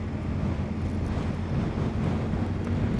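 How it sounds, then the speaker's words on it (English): Steady wind buffeting a microphone on an exposed coast, a broad continuous low rumble and hiss with no gusts standing out and no voices. "It's a little bit windy today,"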